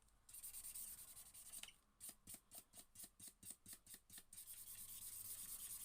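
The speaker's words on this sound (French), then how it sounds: "je viens continuer à utiliser les différents feutres" Metallic felt-tip markers rub back and forth on paper in a quick series of about a dozen rhythmic, close, faint scratchy strokes, with softer rubbing before and after.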